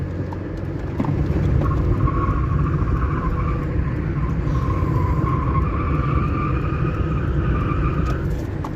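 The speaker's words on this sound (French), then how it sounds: "Ça fait crisser les pneus." A Peugeot 206 CC circles a roundabout with its tyres squealing in a sustained, wavering screech over the car's engine noise and road roar, close and fairly loud.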